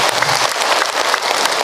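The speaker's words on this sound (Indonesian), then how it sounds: "Tepuk tangan untuk kita semua." Dense, loud clapping from a congregation at an Islamic sermon, sustained throughout without a break, with a faint crowd murmur underneath.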